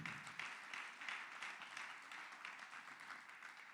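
A church congregation claps during a sermon, a fairly steady wash of applause heard faintly and at some distance.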